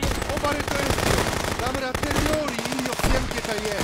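Rapid gunfire from a sniper rifle in the video game Contraband Police, a dense run of shots over music and game sound with a voice talking.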